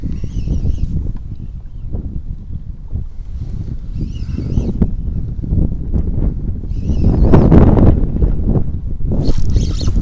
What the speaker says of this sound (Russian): Но сильный ветер.